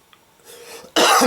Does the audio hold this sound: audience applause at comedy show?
no